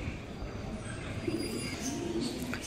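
A large racing pigeon cooing softly up close, low gentle murmuring coos in a quiet setting with faint background noise.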